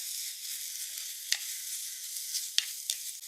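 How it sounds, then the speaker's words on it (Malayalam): Curry leaves sautéing with green chili and small onions for a fish curry, making a bright, steady hiss of frying oil with a few sharp crackles and spatula scrapes, close and quiet. "കുറച്ച് കറിവേപ്പില വഴറ്റാവേ"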